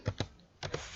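Keys clack on a computer keyboard as a formula is typed into a spreadsheet cell, in two quick pairs of close, crisp strokes separated by a short pause.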